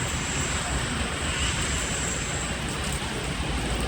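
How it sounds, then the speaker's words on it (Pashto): Steady, dense hiss of rain falling, constant and fairly loud throughout, with a broad rushing texture and no voices. "دلته داسې ښایسته باران ورېږي"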